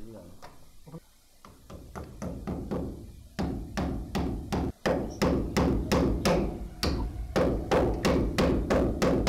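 Hammer strikes drive nails or clips to fix an electrical wiring pipe into a cut wall channel during house wiring, a long run of sharp, close, evenly spaced blows, irregular at first and then steady.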